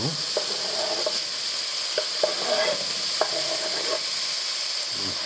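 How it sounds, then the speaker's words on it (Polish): Steady frying sizzle of onion in a pot over high heat, a broad hiss with occasional light stirring clicks and scrapes, close and alone with no talk. "Sądząc po skwierczeniu, chyba trochę przesadziłem z ogniem."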